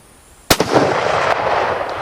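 A single loud, close gunshot from a Turkish 8mm Mauser rifle cracks sharply, followed by a long echoing rumble that trails off outdoors.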